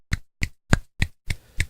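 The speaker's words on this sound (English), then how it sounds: "I think it was the sound of one hand clapping." Six sharp, dry slaps are spaced about a third of a second apart in a steady rhythm, close and isolated against silence, serving as a comedic one-hand-clapping sound effect.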